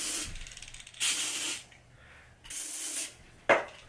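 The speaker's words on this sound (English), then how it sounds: "this is the way you spray it, and this will help disinfect any room to kill virus" Three short hissing bursts of disinfectant aerosol spray, close by, each lasting about half a second, separated by brief pauses with a faint click at the end.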